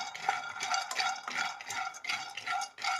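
Peanuts dry-roasting in a pan over a medium flame for peanut laddu, giving a steady near rattle and scrape of nuts being stirred in repeated bursts, with no talk.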